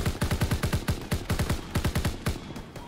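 Rapid automatic gunfire from a World War II video game, bursts of evenly spaced sharp shots, loud and close, with a brief pause before a final short volley.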